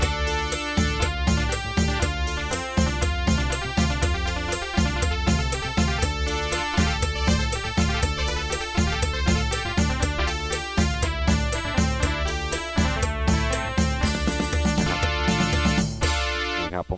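Casio MA-220 61-key electronic keyboard playing preset voice 12, a bright, rhythmic melodic line with steady repeated notes and accompaniment, loud and continuous without talk, ending with a brief fade.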